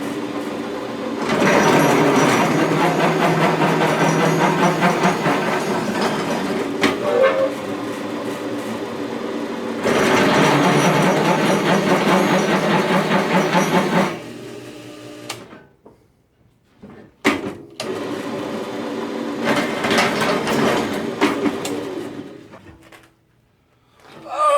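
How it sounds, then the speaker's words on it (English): A drill boring holes in metal for a waste oil heat exchanger build, heard as long loud whirring runs with a high grinding edge, each several seconds, separated by pauses and brief clunks. "So let me get these holes drilled."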